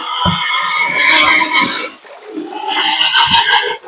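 Young grower-stage pigs on a farm squealing loudly in two close bursts, shrill and sustained, with a short dip between them.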